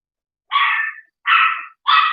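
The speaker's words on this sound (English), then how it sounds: "That dog will bark it in" A dog barks three times in quick succession, close and fairly loud, with clean silence between the barks and no talk.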